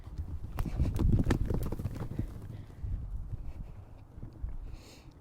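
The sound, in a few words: horse hooves running past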